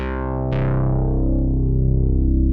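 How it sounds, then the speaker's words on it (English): A sustained, rich synth tone from a Roland Jupiter clone plugin with its chorus, a bright attack swelling in at half a second, then a wide, shimmering wobble as the sound slowly decays. "Is the original sampled noise from Jupiter Chorus?"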